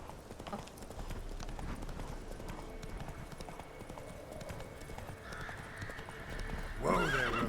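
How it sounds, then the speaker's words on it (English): Horse hooves clip-clopping steadily in The Witcher 3, with a loud neigh near the end over the game's background ambience. "Whoa there, Roach."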